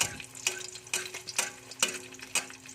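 An egg frying in oil in a pan, a light continuous sizzle punctuated by regular crisp scrapes or taps roughly every half second, close but fairly quiet, no talk.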